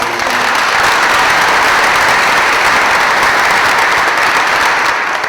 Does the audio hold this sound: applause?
yes